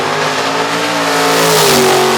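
1981 Camaro accelerating hard at a quarter-mile drag race, its engine a loud, continuous roar rising in pitch, with a commentator's voice barely audible beneath it.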